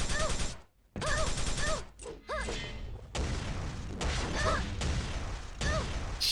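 Rockets firing in a video game, a series of loud bursts and crackling blasts with brief gaps and rising whooshes, punctuated by sharp thumps, with an excited commentator talking over the action.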